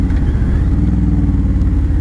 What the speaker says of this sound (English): That exhaust sounds pretty awesome.